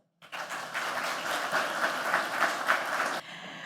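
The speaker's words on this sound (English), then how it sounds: "please give a round of applause to welcome on stage Paula Jovic." An audience claps to welcome Paula Jovic onto the stage at an evening community event. The applause is sudden, full and steady for about three seconds, then cuts off sharply, with no voice over it.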